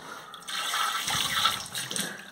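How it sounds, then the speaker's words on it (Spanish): Water gushing hard from the open valve of a leaking toilet cistern, a steady broadband rush that holds throughout at close range with no talk over it. "es generar la salida de agua"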